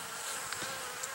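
Honeybees leave their hive on a winter cleansing flight, some carrying out dead bees, making a faint, steady buzzing hum with no voices.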